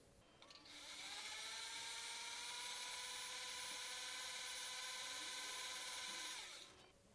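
A small rotary tool cleans tool marks from the prongs of a gold ring, whirring at a steady high pitch for about six seconds after a quick spin-up before winding down.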